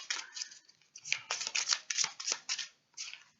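Tarot cards are shuffled by hand in quick, irregular bursts of close, crisp flicking and riffling, with a few short pauses between the runs.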